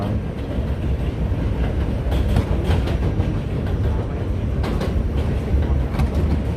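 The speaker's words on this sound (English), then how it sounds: "This is the elevated subway train." An elevated subway train rolls past in Brooklyn, New York, a loud, continuous rumble with rattling wheels and metallic clatter filling the whole stretch, heard close and steady without any voices.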